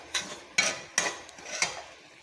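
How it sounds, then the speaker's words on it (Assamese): Dry semolina (sooji) roasting in a pan for sweet laddus, stirred with a utensil: four spaced, close scraping clinks of metal against the pan over a quiet background, no talking. "আৰু ইয়াত চুজি ভাজি আছোঁ"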